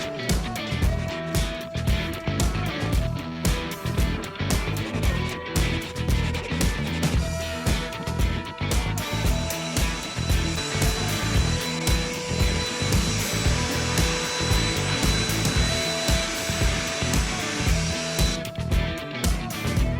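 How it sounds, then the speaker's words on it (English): Drill driving a Kreg countersink bit into pallet wood for screw holes on a bench, a loud steady whirring that pulses in repeated short bursts throughout. "I'm gonna use my Craig drill bit here to just countersink some holes for the screws"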